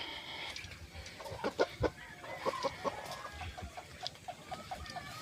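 New hens in a coop cluck repeatedly in short, uneven bursts, fairly close, over quiet background rustle and with no talk.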